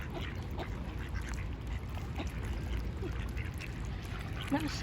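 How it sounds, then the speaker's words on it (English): Ducks of an unfamiliar kind quack faintly and intermittently in an outdoor setting with pigeons nearby, under steady background noise. "What kind of duck is that?"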